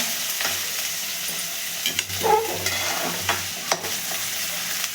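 Onion sizzles in hot oil in a pan for bhindi bhaji, a steady crackling fry broken by a few scrapes of stirring.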